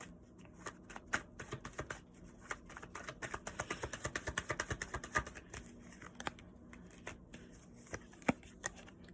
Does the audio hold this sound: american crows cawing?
no